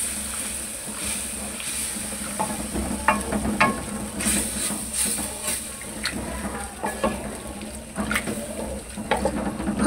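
A spoon scrapes and stirs chicken jalfrezi with soft boiled peas in a pan, giving irregular close clinks and scraping strokes over a low, steady sizzle.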